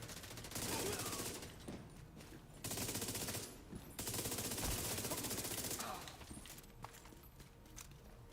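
Gunfire in The Division 2, long automatic bursts rattling loudly in waves with short pauses between, close and dense, followed by lighter scattered shots.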